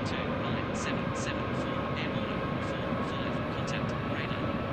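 Airbus A380-800 engines in a flight simulator game on final landing approach, a steady loud broadband roar running throughout with faint intermittent higher tones.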